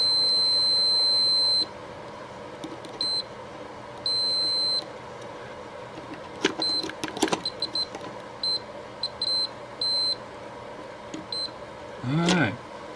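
A multimeter continuity tester on a Lionel Pennsylvania Flyer caboose gives a long steady beep, then short intermittent beeps as probes touch, amid clicks and handling noise.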